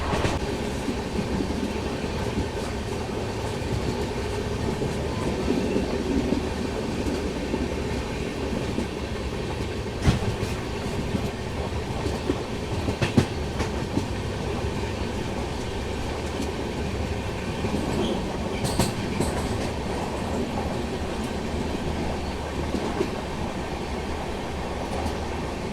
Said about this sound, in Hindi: ये आ गई जी train number 15031 Gorakhpur Lucknow intercity.